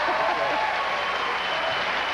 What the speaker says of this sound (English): Hit the applause light